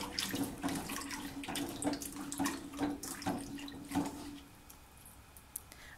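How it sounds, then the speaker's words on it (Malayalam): Water coming to a boil in a cooking pot for a raw plantain curry, a steady bubbling and gurgling wash with soft irregular pops, close and moderately quiet, with no voices. "വെള്ളം ഒന്ന് തിളച്ച് വന്നിട്ടുണ്ട്."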